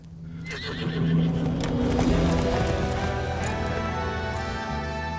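A horse neighs loudly in a Bollywood action film scene while hooves clip-clop beneath it, the whinny rising close and full and the hoofbeats continuing underneath as it fades.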